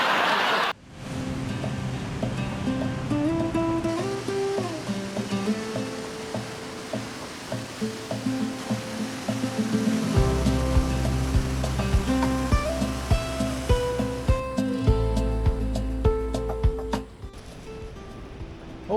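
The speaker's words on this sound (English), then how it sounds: "Hopefully you can hear me over the surf." Rough ocean surf on the Mendocino coast of California roars continuously, with waves crashing and churning close by and a steady rushing wash throughout.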